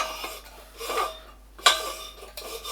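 A keg holding beer line cleaning solution is shaken, giving a few bursts of sloshing liquid and clanking metal, close and moderately quiet, with pauses between them.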